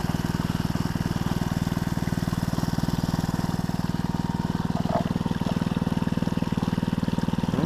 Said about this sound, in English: there's no telling what I'm sucking through the dredge